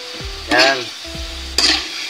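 Chicken pieces sautéing in a pan for a chicken tomato sauce with liver spread, seasoned with a little salt: two short bursts of stirring and sizzling close by, with quieter tonal background between them.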